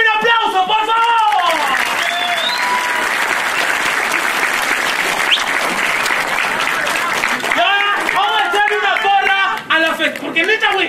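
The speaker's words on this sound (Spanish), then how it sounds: "¡Regálame un aplauso, por favor!" A crowd at a quinceañera party breaks into loud, full applause after a band's show, clapping densely for several seconds between stretches of someone talking over a microphone.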